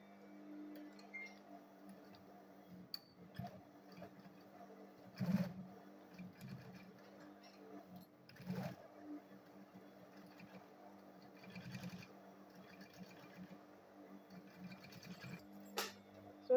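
Sewing machine stitching fabric for the front panel of a school bag, a faint steady mechanical run with brief louder bursts and small clicks, quiet and alone without talk.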